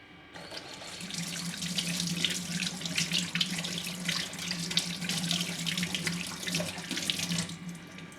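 Steady stream of tap water running and splashing into a sink while rinsing a brass idol, close and continuous, with no voices.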